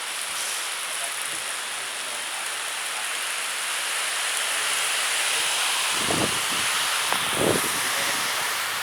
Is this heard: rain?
yes